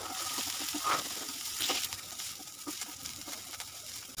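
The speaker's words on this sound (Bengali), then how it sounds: "জিরা একটু ভালো করে ভেজে নিতে হবে, জিরা যেন কাঁচা গন্ধটা না থাকে" Cumin seeds, grated ginger and chopped green chili fry in hot oil in a pan, giving a steady close-up sizzle with a few stirring scrapes throughout and no talking.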